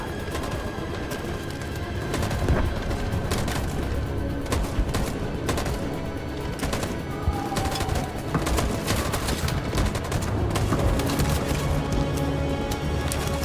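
Heavy gunfire in the final battle of Detroit: Become Human: sustained rapid volleys of shots and sharp cracks, dense and loud throughout, with booming impacts and no talking.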